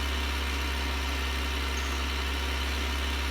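A Nuffield or Fordson tractor engine idles steadily on a farm during 1960s hay carting, a constant low, even rumble that holds throughout with no talk over it.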